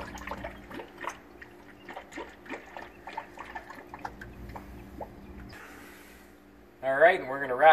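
Distilled water trickles and drips into a Honda Fit radiator in a soft, uneven patter, with a voice breaking in loudly near the end.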